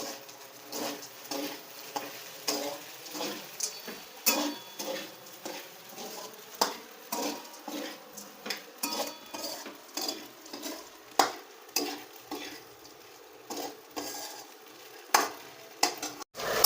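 Crushed peanuts stirred into sabudana khichdi in a pan: repeated rhythmic scrapes and taps of a spoon against the pan over a light sizzle, close and clear, with no speech.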